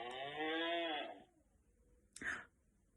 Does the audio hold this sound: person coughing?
no